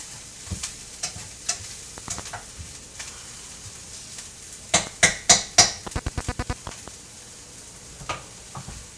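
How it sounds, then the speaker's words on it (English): Onions lightly sautéing in a pan while being stirred, with a spoon or spatula clinking and scraping against the metal. Scattered knocks give way to a quick cluster of sharp strikes near the middle, with no talking. "We're just doing a lightly sauteed set of onions."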